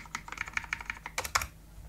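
Quiet keyboard typing while coding in Visual Studio, a quick run of light individual key taps at an uneven pace over a faint background hum, with no talk.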